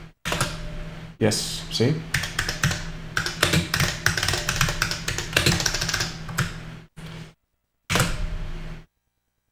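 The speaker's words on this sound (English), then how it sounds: "I may have to type this again." A keyboard on an Atari XE computer setup is typed on in quick, close clicking runs with short pauses, while someone speaks briefly.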